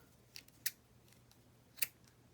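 Scissors snip yarn a few times close by, two crisp sharp cuts standing out over a quiet background hum.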